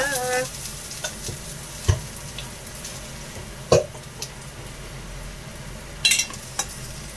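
Food sautés in a pan for roast pig dish, a steady soft sizzle broken by a few sharp scrapes and clinks of stirring, with no speech.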